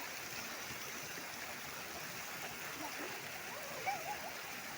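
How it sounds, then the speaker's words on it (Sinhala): Stream water rushes steadily at the Peeli Hatha Ella waterfall bathing spot, a dense, even wash of flowing water with a small splash near the end. "රිද්මි බබා වතුරට අරන් ගියා."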